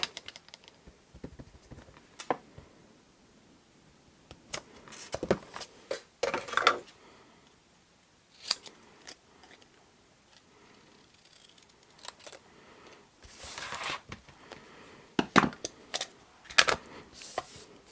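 Paper is cut by hand with scissors for Christmas table bags, giving quiet, scattered snips and rustles with pauses between bursts and no talking.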